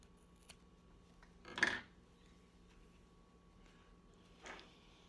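Scissors snip through sewing thread in two short, crisp cuts: a louder one first, then a softer one a few seconds later, against a quiet room.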